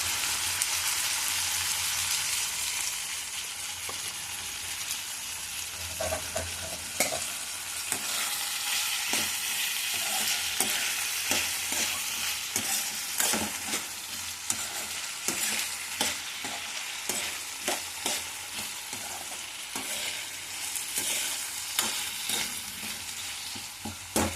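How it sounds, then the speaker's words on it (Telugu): Stuffed bitter gourd fries in a pan with salt, a steady close sizzle running throughout while a utensil stirs and scrapes in repeated, irregular strokes. "కొంచెం కలర్ చేంజ్ అయ్యేదాకా ఫ్రై చేసుకోవాలి"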